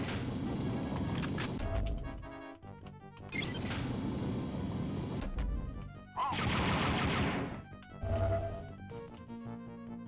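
Rapid stormtrooper rifle blaster fire in the Star Wars: Dark Forces game, several loud sustained bursts of repeated shots separated by short pauses.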